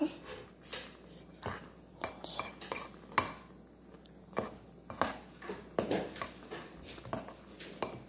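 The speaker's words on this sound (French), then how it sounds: "Après on prend la petite cuillère et on mélange." A small teaspoon stirs a mixture in a bowl, making repeated close, bright clinks and scrapes against the sides in an irregular rhythm, with quiet pauses between the bursts.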